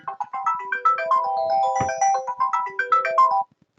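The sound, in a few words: phone ringtone of automatic dispatch notification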